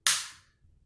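A PCP air rifle fires once, a sharp close crack that decays over about a third of a second, followed by faint low handling noise.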